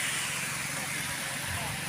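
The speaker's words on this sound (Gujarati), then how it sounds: "ત્યાં વરસાદ શરૂ થઈ ગયો ખરો" Steady rain falls outdoors at the Gadhpur fair, with water spraying off the road, a continuous broadband hiss close and even throughout with no break.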